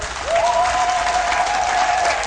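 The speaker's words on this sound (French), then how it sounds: "Nous applaudissons très fort." Loud applause fills a church during a consecration Mass at a parish in Agou, Côte d'Ivoire, a dense steady roar of clapping hands with a sustained high tone gliding through it.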